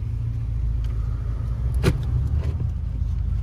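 Steady low rumble from inside a car driving around, with road and engine noise holding a constant level and a brief soft click near the middle.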